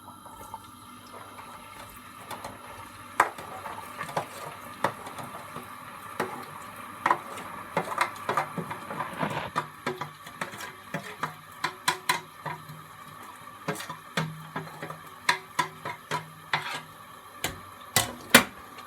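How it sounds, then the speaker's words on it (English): Onions sizzle faintly in a pan on the stove while a utensil scrapes and clinks against the metal in irregular stirring knocks, some louder than others. "I think we can start to put the onions inside and start cooking them."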